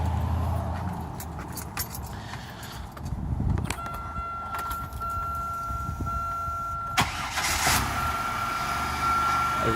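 Supercharged engine of a 1997 Buick Regal GS warms up with a low, steady idle rumble, as keys jangle nearby and a thin electronic chime tone sounds partway through.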